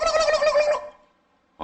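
A voice imitates a turkey gobbling, a loud warbling call lasting under a second, followed by a short silence before speech resumes.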